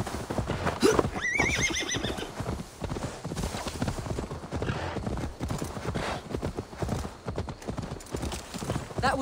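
A horse in Assassin's Creed Valhalla clops along with steady, rhythmic hooves throughout and lets out a neigh near the start, loud and close against a faint game ambience.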